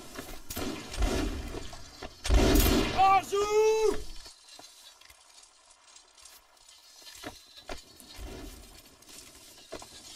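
Musket volley in Mount & Blade: Warband during a Napoleonic-era battle, a loud burst of several crackling shots arriving together in one short cluster, followed by quieter scattered battlefield noise and faint distant pops.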